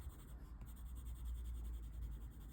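Polychromos coloured pencil shades on paper in a dark skin tone drawing, a soft continuous scratching of lead working into the paper's tooth, faint and close, with no speech.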